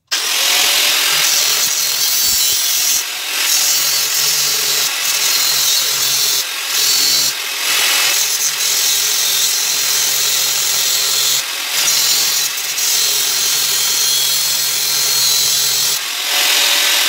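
An old angle grinder's motor cuts steadily through material in a continuous loud, harsh whine with brief dips, running alone with no voices for about seventeen seconds.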